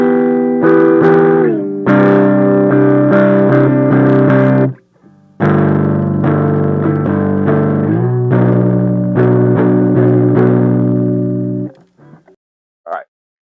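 Electric guitar through a Deformed Devices Signal Decay Retro Radio Amplifier pedal with volume maxed, giving a darker, louder distorted tone; sustained chords and short phrases ring out across two passages with a brief break between them.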